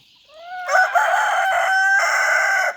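A rooster in Urgench crows loudly and close by, one long drawn-out call with no other sounds around it.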